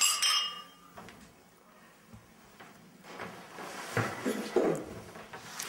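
Glasses clink together in a toast, a few bright, short chinks at the start followed by quieter clatter and faint rustling.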